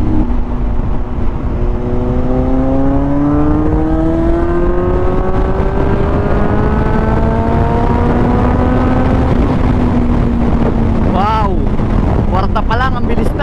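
A Suzuki GSX-S750 naked motorcycle accelerates hard on the road, its engine note climbing steadily through the gears, with rising harmonics and wind rush, ending in sharp revving bursts near the microphone.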